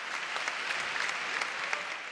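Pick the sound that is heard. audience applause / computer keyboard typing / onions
audience applause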